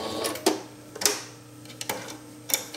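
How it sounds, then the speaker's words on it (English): A sewing machine zigzag stitching along the edge of a fabric purse lining, giving a steady low mechanical hum with periodic ticking clacks roughly every half second, close and moderately loud. "I'm going to come down and zigzag along this edge and along the bottom so it's not fraying on the inside"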